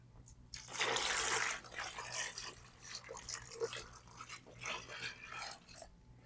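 Water pours and splashes into a cold therapy machine's container in a loud rush, then continues in gurgling, uneven spurts before tapering off.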